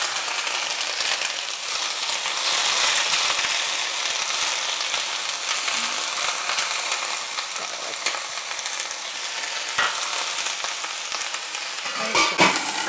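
Tuscan Dino kale hits a pan with garlic and sizzles steadily at close range, a bright crackling hiss with a few scattered pops and light clinks toward the end.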